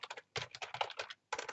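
Fast typing on a computer keyboard, close and crisp, in rapid clusters of keystrokes broken by brief pauses.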